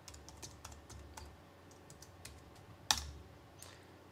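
A username and password are typed on a computer keyboard, with soft, close keystrokes tapping in an uneven run and one sharper, louder key press near the end.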